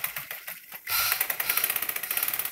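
Sewing machine stitching a folded fabric strip onto a designer sleeve hem, starting after a short pause into a steady, rapid mechanical stitching rhythm, close and clear.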